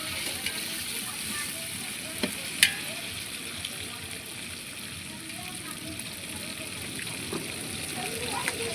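Ginger-garlic paste frying in a pan for bagara rice gives a steady, soft sizzle, with faint voices in the background and a few small sharp clicks from stirring.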